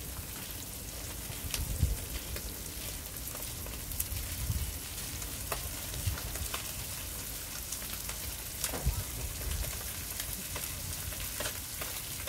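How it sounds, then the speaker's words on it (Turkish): Anchovies fry in a pan on a wood stove outdoors, giving a steady, close sizzle and crackle with scattered sharper pops throughout and no talking. "Balığım kızarıyor."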